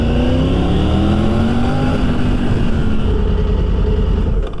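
A Triumph Tiger 900 GT Pro motorcycle engine roaring inside a tunnel, loud and close, pitch sliding as it revs through gears with strong reverberant echo, no talking.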